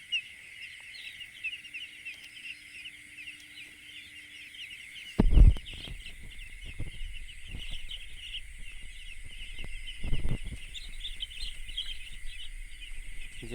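Young broiler chicks on a poultry farm, a dense steady chorus of high cheeping from many birds throughout, with a couple of brief nearby knocks and bumps partway through.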